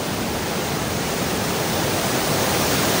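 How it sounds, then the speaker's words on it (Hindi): Water rushes out of the open third gate of Hatibari Dam in Mayurbhanj as a loud, dense, unbroken roar that holds constant from start to finish, with no voices. "थर्ड गेट से पानी निकल रहा है"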